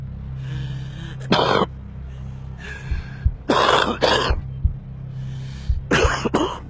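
Repeated harsh, bursting coughs of a smoker, a series of about five loud fits spaced by pauses over a low steady hum.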